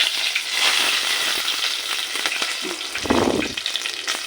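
Torn dried red chillies and curry leaves sizzle and crackle in hot oil already holding cumin and mustard seeds, with steady close frying and a louder burst as more goes into the pan, with no talk over it.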